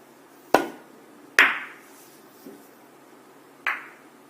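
In four-ball billiards, the cue ball is struck softly into the object balls, giving a few sharp isolated clicks of ball contact spaced unevenly over quiet background, one faint knock in between.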